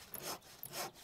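A chainsaw cutting a log in the game House Builder, heard as two short rasping strokes of sawing, close and fairly quiet, with no voices.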